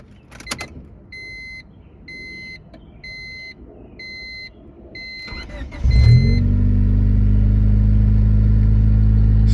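A 1992–2000 Honda Civic after a fuel pump change: a few door-chime beeps and clicks, then the starter cranks briefly and the engine catches, settling into a loud, steady idle close by.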